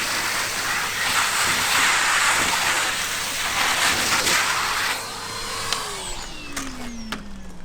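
A Henry vacuum cleaner runs close by with a steady, loud broadband whoosh, then its motor note drops and winds down over the final couple of seconds.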